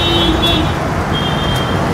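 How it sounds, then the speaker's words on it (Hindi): Busy road traffic near the station and market in Jodhpur hums continuously, with engines droning and car horns tooting intermittently. "बहुत सारा ट्रैफिक चल रहा है"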